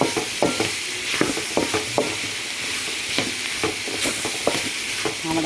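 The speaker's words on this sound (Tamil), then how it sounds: "இந்த மசாலா கொஞ்சம் வதங்குறதுக்காண்டி கொஞ்சம் கிண்டிட்டு இறக்க வேண்டியது." A spoon scrapes and stirs masala frying in a pan for pumpkin kootu, with repeated sharp taps against the pan over a steady, loud sizzle and no voices.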